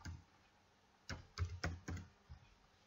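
Someone types on a computer keyboard, a handful of close, crisp key clicks in a short uneven burst, then a final tap, with quiet room tone between.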